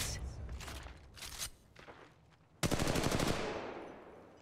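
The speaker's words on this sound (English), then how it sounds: "They spotted me. I'm taking shots. Firing." Gunfire in the mobile video game Apex Legends Mobile: a rapid automatic burst rings out loudly near the end, preceded by scattered fainter shots and movement sounds, with no voices.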